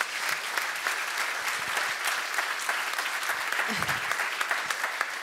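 A lecture audience at a public talk in Geneva applauds the organizers with sustained, even clapping from many hands, loud and close, and a brief murmur of voices partway through.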